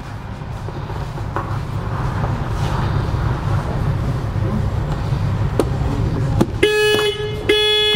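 A Hyundai Tucson's factory alarm set off when a connector is pulled: steady engine-like rumble and a few sharp clicks, then loud pulsing horn-like alarm tones near the end.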